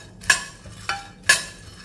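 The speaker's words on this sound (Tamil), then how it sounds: "இதை ஒரு 2 நிமிஷத்துக்கு நல்லா வறுத்துக்குருவோம்" Mixed nuts are stirred while roasting in a kadai, with three evenly spaced metallic scrapes and clinks of a spoon against the pan standing out over a quiet background.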